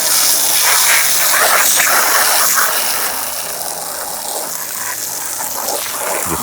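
Water sprays hard from a garden hose into the base of a hot water tank mixed with Dawn dishwashing detergent, a steady loud hissing rush that softens slightly partway through.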